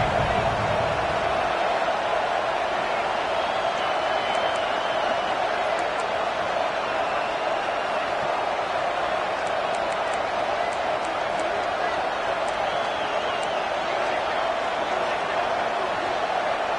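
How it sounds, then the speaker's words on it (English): A steady, roaring stadium crowd at a football game fills the whole stretch as a dense, continuous wash of noise, with brief whistle-like peaks scattered through it. "with this place rocking, the crowd forces a false start"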